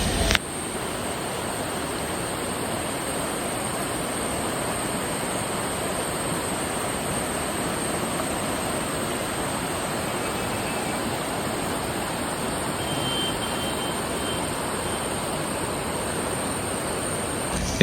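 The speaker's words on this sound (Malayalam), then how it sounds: "ഇത്തവണ ബാവലിപ്പുഴയിൽ നല്ല ഒഴുക്കുണ്ട് കേട്ടോ." The Bavali river near Kottiyoor, running strong in the rainy season, gives a continuous, even rushing roar of fast water that holds steady and close throughout, with no voices.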